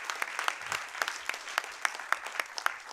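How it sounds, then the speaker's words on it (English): At a town council meeting, a small group applauds a high school sophomore bowler. Only a handful of distinct, separate claps ring out unevenly at close range. "Yep, you can clap that up."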